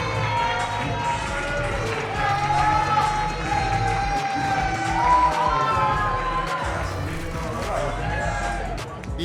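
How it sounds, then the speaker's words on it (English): A crowd at a Cincinnati Bengals gathering applauds and cheers for second-round pick DJ Turner from Michigan, a loud, sustained roar of clapping and shouting with voices mixed in. "Let's give a round of applause to DJ Turner."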